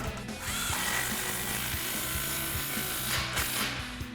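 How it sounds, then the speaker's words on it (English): A power tool, likely an impact wrench, tightens the exhaust clamp on the front of a Flowmaster FlowFX muffler on a Silverado/Sierra 2500, a close continuous rattling buzz with fast rhythmic hammering throughout. "we're now going to tighten our clamp on the front of our muffler"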